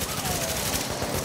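Rapid bursts of gunfire in The Division, continuous and dense, moderately loud for just over a second with no voices.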